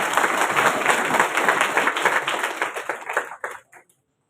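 Loud, dense audience applause at a public ceremony in Udaipur, continuous close clapping that thins out and stops near the end, leaving silence.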